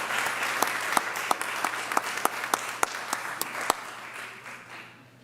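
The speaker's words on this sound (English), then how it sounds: "How about a round of applause for these Service Award winners?" A round of applause at a 2021 school district staff recognition event for service award winners, dense steady clapping from a crowd with a few sharper individual claps standing out, fading away at the end.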